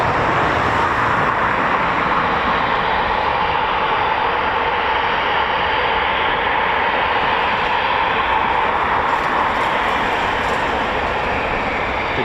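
Eurofighter Typhoon FGR4 jets run their engines at RAF Coningsby, a loud, unbroken roar that holds steady throughout.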